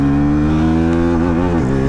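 A motorcycle in first gear, likely a KTM Duke 160 or Honda Hornet 2.0, accelerates hard at full throttle, its close, loud engine note steady and climbing, then dipping briefly as a gear change begins near the end.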